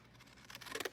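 Scissors snipping through Dollar Tree skull decorations set on plastic, a quick run of faint crisp cuts that grows louder toward the end, close by with no talk.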